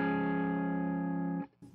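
A single sustained electric guitar chord rings out through delay and reverb effects in a worship-song setting, holding steady and bright before cutting off abruptly, with a faint trailing echo afterward.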